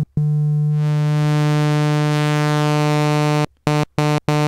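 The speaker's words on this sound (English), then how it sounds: "This is triangle." A synthesizer plays a sustained triangle-waveform tone, a steady held note with clear harmonics lasting several seconds, then cut into a few short stuttering bursts at the end.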